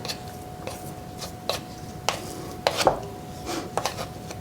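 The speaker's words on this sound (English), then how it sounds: "I'm going to get the knife. And scrape that off." A knife scrapes a gooey mixture off a surface, heard as a series of about eight sharp, close taps and knocks at uneven intervals over a quiet background, with no talking.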